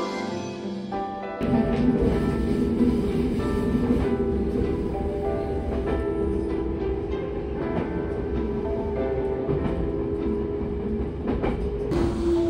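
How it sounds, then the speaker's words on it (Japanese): JR 313 series local trains pass each other on the Iida Line in winter, a quiet start giving way to a sudden loud rush and rhythmic clickety-clack of wheels on rail joints that holds steady, with faint squeals near the end. "列車とすれ違いました。"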